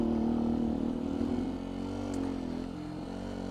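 2019 Beta 125 RR-S dirt bike fitted with a 13-tooth front and 65-tooth rear sprocket, putting along in first gear with a low, steady engine drone, moderately quiet and without talk.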